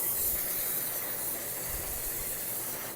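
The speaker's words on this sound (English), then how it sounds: "you're supposed to spray them with the spray" A steady broadband hiss of cooking oil spray runs continuously, fairly loud and close, like a long spray from a can with no pauses, coating donuts in an air fryer basket.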